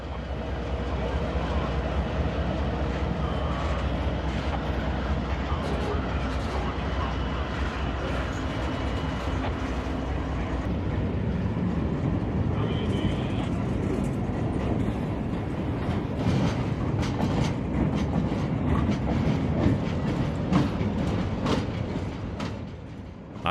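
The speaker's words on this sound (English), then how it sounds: "this interesting locomotive consist includes an EMD SD70M-2 in the trail" A freight train's locomotive consist with an EMD SD70M-2 trailing rolls past close by. It gives a continuous loud rumble and a roar of engines, with clattering wheels building toward the end.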